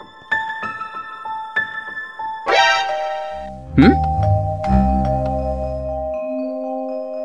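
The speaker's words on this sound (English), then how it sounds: "Oh, that's the doorbell." A doorbell rings inside a Minecraft game: bright ding-dong chime tones sound a few times in the middle of the clip over light background game music, with a brief voice murmur.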